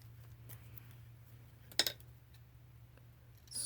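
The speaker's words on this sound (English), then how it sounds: "Scissors, scissors." Scissors cut paper for journal tags, giving a single crisp snip and then a brief second cut against a quiet room with a low steady hum.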